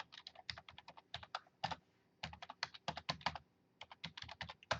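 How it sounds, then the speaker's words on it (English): Rapid typing on a computer keyboard during a stormy-afternoon weather broadcast in Central Florida, bursts of crisp key clicks in quick irregular runs separated by short pauses, close and clear with no talk. "Just typed it out."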